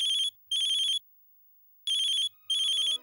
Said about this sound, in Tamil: பாத்தீங்களா, ஃபோன் வந்துடுச்சு